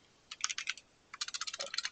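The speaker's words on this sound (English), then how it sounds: "Why am I typing like the actual word?" Rapid typing on a computer keyboard during a game stream, two bursts of fast clicky keystrokes separated by a short pause, close and fairly quiet.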